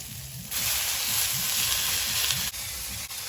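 Steady loud sizzle of fenugreek greens dropped into a pan with fried eggplant and potato, with soft stirring scrapes over the hiss.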